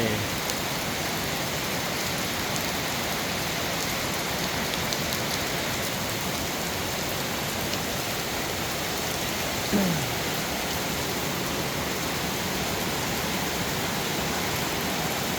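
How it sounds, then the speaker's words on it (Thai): Steady, dense hiss of heavy morning rain pouring down continuously in Uttaradit, Thailand, loud and unbroken, with a faint brief tone near the middle. "ฝนตกแต่เช้า"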